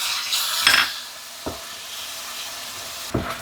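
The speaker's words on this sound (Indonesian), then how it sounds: "Dirasa minyaknya udah agak panas, kita tumis bumbunya." Spice paste sautés in hot oil for beef soto, a soft sizzling hiss broken by a few scraping stirs of a utensil against the pan.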